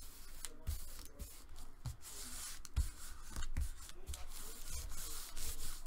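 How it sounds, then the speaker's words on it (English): Paper being burnished and smoothed flat onto a folio by hand, a soft continuous rubbing and swishing with a few light taps, close and fairly quiet with no talking. "And we burnish."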